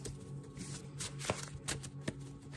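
Tarot cards being shuffled close by, soft repeated rustling and riffling with a few sharper flicks, quiet and alone.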